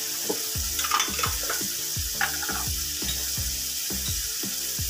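Spices such as ground coriander, cumin and salt fry with mutton liver in a pan: a steady close sizzle with rhythmic scraping stir strokes about twice a second, no voices.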